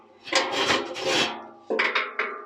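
A Honda Izy scooter part lifted out of a workshop oven and set on a workbench: loud scraping, rubbing clatter of metal against wood, a sustained grinding drag followed by several sharp knocks as it settles.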